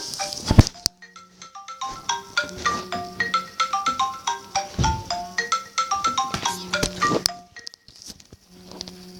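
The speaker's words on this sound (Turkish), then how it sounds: "Benim telefonum çaldı" A mobile phone ringtone plays a bright, melodic run of repeating electronic tones with rhythmic percussive hits, fairly loud and close, with no talking.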